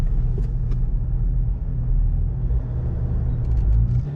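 An overland vehicle pulls away near Radiator Springs in Death Valley, its engine giving a deep, steady low rumble close by, with faint road noise and no talking.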